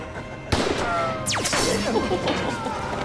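A single sharp gunshot in a Doctor Who episode, a loud crack followed by a swooping effect and lingering rumble under music and ambience.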